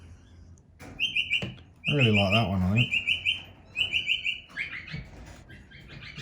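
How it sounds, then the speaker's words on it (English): Birds on a roof chirp in bright, repeated bursts, some calls near and fairly loud, while someone speaks briefly in between. "Birds on the roof, having a bit of a play."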